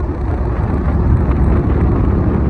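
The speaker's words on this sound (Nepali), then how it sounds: "हावा यस्तो चलेको छ" Strong wind buffets the microphone on a scooter ride near Dharan, Nepal, in a steady, loud low rumble that barely lets up.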